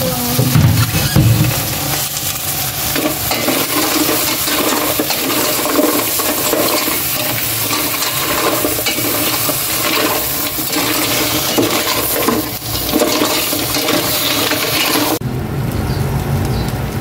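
Water pours into a cooking pot for mussel soup (tahong) in a home kitchen, a steady broadband rush lasting most of the stretch and ending abruptly near the close.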